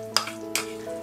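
Cashew nut paste is stirred into paneer butter masala in a pan: two quick, close scraping strokes of a spoon cut through a soft, continuous sizzle.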